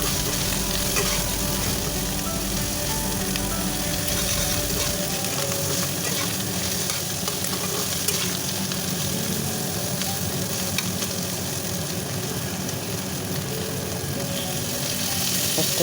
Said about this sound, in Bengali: আদা পেস্ট দিয়ে দিয়েছি, দিয়ে আবার মিশিয়ে দিচ্ছি।